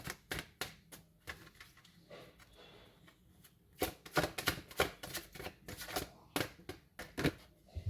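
Oracle cards shuffled by hand during a tarot reading, a quick run of crisp flicking riffles, sparse at first and then denser and louder in bursts, close to the ear with no talk.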